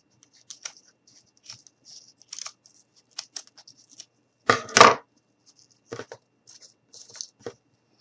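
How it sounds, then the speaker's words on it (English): Scissors trim excess material from a handmade bumble bee gnome, with sparse light snips and clicks and one louder, longer cut partway through, close by and quiet otherwise. "take our scissors, and cut off any extra"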